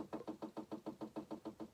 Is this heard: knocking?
yes